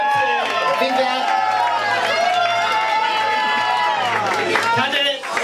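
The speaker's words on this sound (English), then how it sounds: "Ladies and gentlemen, warm of applause, please." A pageant audience cheers, whoops and calls out for a contestant in a loud, continuous crowd roar, with voices rising above it throughout.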